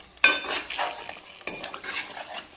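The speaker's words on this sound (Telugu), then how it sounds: "సో మసాలా కలిపేలాగా ముక్కలు మొత్తం కలిపేసుకున్నాం" Half a kilo of chicken pieces being stirred with masala in a pan, a sharp clatter of the spoon against metal followed by scraping and a soft sizzle, then a second stirring pass.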